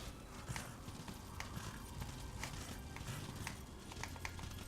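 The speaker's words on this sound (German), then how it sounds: "Wir reiten wieder den endlos langen Canyon entlang." Hooves clip-clop at a steady walking pace as a horse is ridden through a canyon in the Darksiders video game, rhythmic clopping over a dense game soundtrack and ambience.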